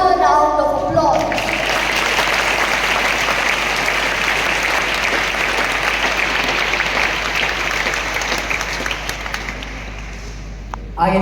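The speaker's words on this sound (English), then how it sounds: "our cast members and dancers really deserve a louder round of applause." An indoor audience at a school Independence Day celebration applauds cast members and dancers, with dense sustained clapping that swells after a brief spoken lead-in and slowly fades toward the end.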